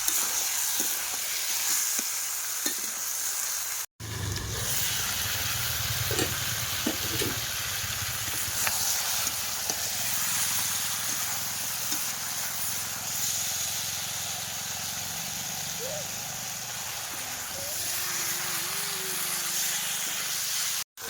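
Chicken and potatoes sautéing in a pan over a coal fire, a steady loud sizzle and hiss with occasional stirring scrapes and small pops throughout.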